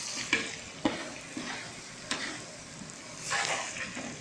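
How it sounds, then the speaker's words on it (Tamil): Fenugreek seeds sizzle and crackle in a large pan of hot sesame oil for an onion pickle, with steady frying hiss and a few sharp clinks of a spoon stirring against the pan. "2 லிட்டர் எண்ணெய் நல்லா காஞ்சி வந்ததுக்கப்புறம் வெந்தயம் சேர்த்துக்கோங்க."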